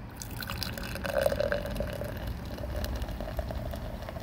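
Coffee beer pouring from a freshly opened container into a pint glass, a steady liquid gurgle and splash with a brief rising fill tone, close and fairly quiet, with no talk.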